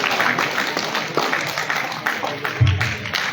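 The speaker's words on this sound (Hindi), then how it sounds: "साथियों, जोरदार तालियों की गड़गड़ाहट होना चाहिए साथियों" A crowd applauds at an outdoor Nishad Party political rally: steady, dense clapping with a thick wash of noise throughout, and a voice faintly audible beneath it.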